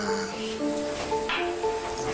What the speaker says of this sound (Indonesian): Aku lagi goreng peye.